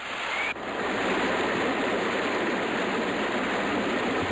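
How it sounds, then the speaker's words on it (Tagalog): Lalawan Falls pouring at the foot of Mount Dulang-Dulang, a steady broadband rush of falling water that stays loud and unbroken throughout, with no voices. "Ganito raw ang Lalawan Falls na nakatago sa paanan ng bundok."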